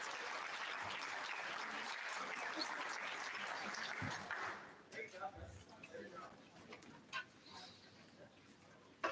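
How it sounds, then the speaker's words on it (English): Applause from an audience at a school district retirement celebration, honoring a student orchestra and honor society, fills the first half at moderate level, then fades into scattered claps and murmuring voices. "Please let's give our members of the RCK Orchestra and Tri-M Honor Society under the baton of wonderful Gina Stevens and Director Bonnie King a big round of applause."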